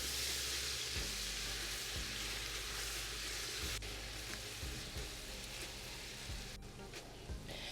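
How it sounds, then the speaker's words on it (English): Onions with ginger and spices sizzle steadily in a pan for beef jollof rice, stirred now and then, with a low, even hum underneath. "Stir it in and continue to cook until these onions become perfectly caramelized"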